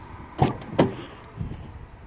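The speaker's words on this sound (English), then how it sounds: "Helps if I unlock the doors all the way." Car door locks and latches on a traded-in SUV with a power liftgate: two sharp mechanical clunks in quick succession, then a softer thud, close by and with no talking.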